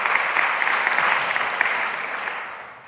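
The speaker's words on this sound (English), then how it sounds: "Give him another round of applause." Audience applause fills a hall at Augsburg's annual MLK Convocation for an alum of the college, steady dense clapping that holds loud before slowly tapering off near the end.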